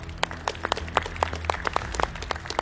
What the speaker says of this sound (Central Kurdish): دەستخۆش وڵات چەپڵەیەک